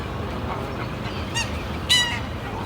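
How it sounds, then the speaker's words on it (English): A large flock of geese on a lake gives out a couple of short honking calls that sound fairly distant. The calls rise above a steady outdoor rumble of wind and ambient noise, and nobody speaks. "I can't believe how many geese are at this lake"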